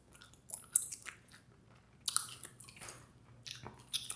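Bubblegum being chewed up close, with soft wet smacks and squishy clicks in irregular bursts, quiet and without talk.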